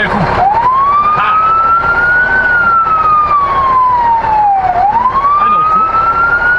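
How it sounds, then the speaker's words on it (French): A fire truck's siren at a fire department open house wails loud and close, sweeping up, holding a long high tone, dipping low and climbing again, with no talk over it. "Tu veux-tu mettre la sirène?"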